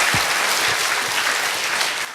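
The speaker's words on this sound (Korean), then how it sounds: "다시 한번 여러분 힘찬 박수로 격려해 주시기" Applause from an audience at a church gathering fills the clip: a steady, dense clapping wash at close range, holding evenly for about two seconds and then thinning slightly at the end.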